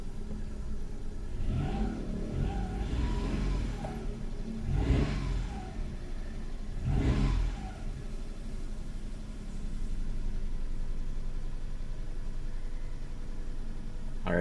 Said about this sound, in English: I'm gonna show you guys how the engine idles.